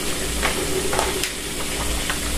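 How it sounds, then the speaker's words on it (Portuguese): Food frying in a red pan on a home stove, a steady close sizzle and crackle with occasional louder pops, continuous throughout with no talk. "Então, vou deixar fritar aqui."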